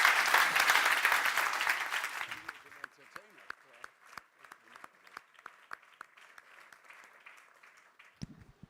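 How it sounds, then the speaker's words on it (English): Audience applause at an award ceremony, a loud dense wave of clapping for about two seconds that fades into sparse scattered claps, with a voice briefly at the end. "I would like an applause from everybody for this special award that's going out to you"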